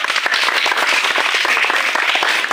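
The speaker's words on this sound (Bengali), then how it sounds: "সবাই একটা হাততালি দাও, হাততালি দাও।" A group of first-grade schoolchildren claps together at a school game event, giving dense, lively applause that stays loud and close throughout.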